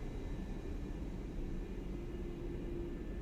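Boeing 787 taxiing in the X-Plane 11 flight simulator, a steady broadband engine rumble and hiss with a faint whine, continuous and even throughout, no talk.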